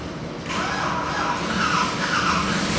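A 383 Chevy Stroker V8 crate engine on a dyno fires up after a short cranking moment, then settles into a loud, steady running rumble with a rough, throaty texture, no voices over it.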